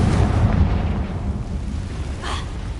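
Confringo spell explosion in Hogwarts Legacy, a loud deep blast that rumbles and fades over a couple of seconds, followed by a brief brighter burst near the end.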